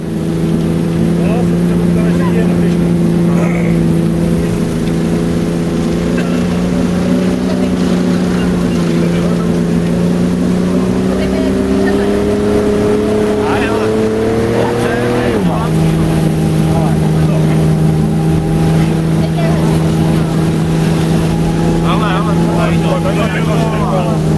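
A snowcat's heavy engine drones loudly and continuously while riding, its pitch climbing slowly then dropping abruptly, with wind buffeting and rattling throughout.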